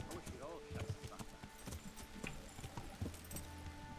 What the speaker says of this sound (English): Alright, I will park my horse right here.